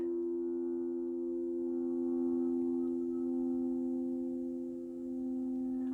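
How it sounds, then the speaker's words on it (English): Tuning bowls ring for a sound bath, a steady sustained pure tone with a strong low fundamental and soft overtones. The sound is moderately loud and slowly swells and fades, with no voices. "I hope you can hear the tuning bowls in the background."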